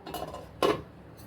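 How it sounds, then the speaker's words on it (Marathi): A lid set onto a small metal mini appe cake pan on the stove gives one quick, bright metallic clink, close by, with a faint tap just before it and quiet room hum around it. "आपल्याला छान झाकून ठेवायचं आहे"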